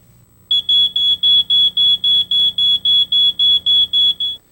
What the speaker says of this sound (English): If your smoke alarm goes off